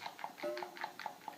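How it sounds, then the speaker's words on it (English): A synthesized dog sound from a Commodore 64 video game, a rapid series of short, evenly spaced chirpy yelps at moderate loudness, with a brief tonal beep partway through. "Oh my, the dog."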